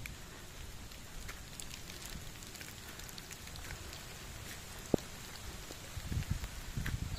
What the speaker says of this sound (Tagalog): binabasa-basa kami ng kaunting ulan